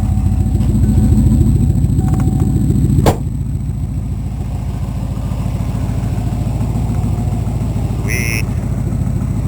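A 1988 Ford Crown Victoria engine idles steadily and close by, a continuous low rumble with a sharp knock near the start, and a voice briefly speaks over it.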